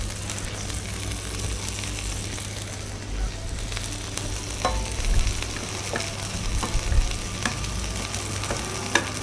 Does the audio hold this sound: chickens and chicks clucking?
no